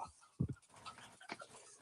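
A dog pants and lets out a brief whimper, with a short burst of low breathy sound near the start followed by softer, scattered panting, all fairly quiet and close, with no speech.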